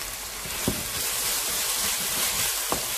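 Chopped ginger and garlic sauté in a hot pan, giving a steady close sizzle and hiss with a few soft stirring scrapes and no talking.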